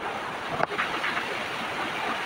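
Strong wind blowing outdoors, a steady loud rushing roar across the whole stretch with a brief gusty bump near the start.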